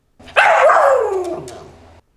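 A pet dog gives one drawn-out bark that slides into a whining yelp, close and loud, alone in a quiet room.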